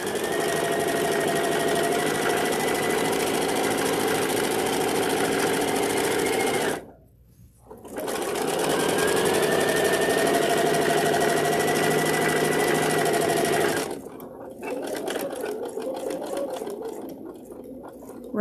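Sewing machine stitching in a steady, rapid mechanical hum, running in two long continuous bursts separated by a short pause, then slowing to a lighter intermittent whir.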